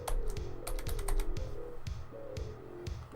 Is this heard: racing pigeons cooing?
no